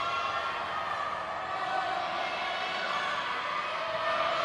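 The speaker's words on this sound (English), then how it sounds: "You can hear the crowd." A crowd at a youth bouldering competition in Soure, Portugal, making a steady, distant roar of cheering and murmur that carries on continuously with no clear breaks.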